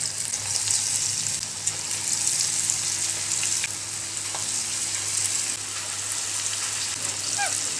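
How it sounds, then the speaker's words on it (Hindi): Moong dal pakoras frying in hot oil, a steady close crackling sizzle with faint bubbling pops running through the whole clip, no talking. "अब ये ऑयल गर्म हो गया है, पकोड़े बनाना स्टार्ट कर रहे हैं।"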